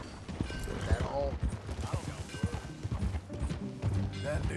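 Horse hooves clip-clop steadily as riders set off in the video game Red Dead Redemption, moderately close and mixed under ongoing conversation between characters.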